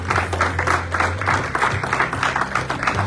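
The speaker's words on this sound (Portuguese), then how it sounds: "Aplauda ao Senhor Jesus nessa noite" Church congregation applauding together, steady dense clapping with a low hum underneath, continuous and fairly loud throughout.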